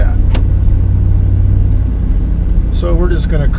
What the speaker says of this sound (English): So we're just going to cruise in this truck.